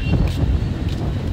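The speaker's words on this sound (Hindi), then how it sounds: "इतनी प्यारी हवा चल रही है ना" A breeze blows at Ram Jhula in Rishikesh, buffeting the microphone with a steady low rush and a few gusts, loud and close, with no talking.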